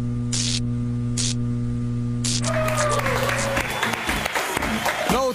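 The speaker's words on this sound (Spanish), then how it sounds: "Un aplauso." Studio audience applause on a Sunday television variety show breaks out as a dense, steady wash of clapping partway through, after a stretch of plain electrical hum, which carries on underneath.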